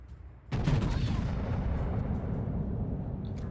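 Heavy naval gun boom from the Conqueror battleship firing AP shells in World of Warships, one sudden loud blast followed by a long rumbling roar that sustains through the rest of the moment.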